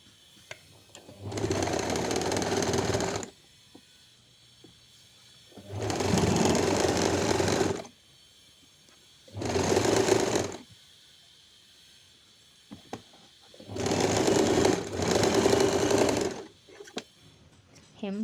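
A sewing machine stitches the ruffle of a frock for an eight-year-old girl in four separate bursts of fast, steady whirring of a couple of seconds each, with short quiet pauses between them.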